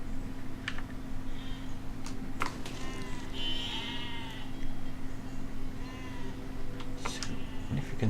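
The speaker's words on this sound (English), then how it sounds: "No sheep, go away." Sheep bleating in the video game Besiege, a few wavering bleats rising over a steady hum and scattered keyboard clicks, moderately loud in the middle of the stretch.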